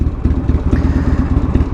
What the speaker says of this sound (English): I love the sound of the bike, especially at idle. Just sit there loping away.